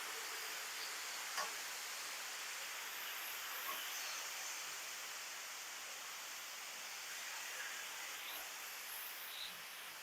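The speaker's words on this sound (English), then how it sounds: "Listen to that sizzle." Steady broadband sizzling hiss from carnitas pork frying on a hot flat-top griddle, continuous and fairly even, with a few faint ticks and pops.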